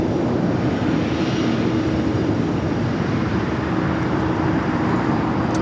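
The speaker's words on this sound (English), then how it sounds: "A350 also heading up to the north side" An Airbus A350 airliner departs LAX with a broad, steady roar of jet engines, loud and constant throughout, with no talking.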